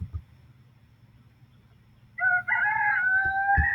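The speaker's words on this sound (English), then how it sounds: "It belongs to a rooster." A rooster crows once, loud and clear, after a quiet stretch with faint low background noise.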